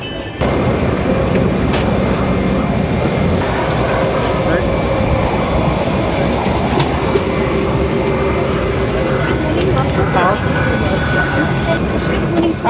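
Engines of an Airlink Embraer 190 airliner heard from the cabin during boarding, a steady loud broadband roar with a faint high whine throughout, while people talk over it.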